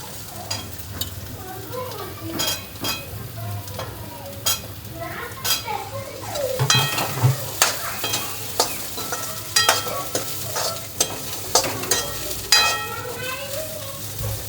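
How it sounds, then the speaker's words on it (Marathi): Drumstick pods frying in a little oil for sambar, a lively sizzle broken by frequent stirring and scraping of a utensil against the pan, close and fairly loud, with no talk over it. "हे सर्व 2 मिनिटं फ्राय करून घेते."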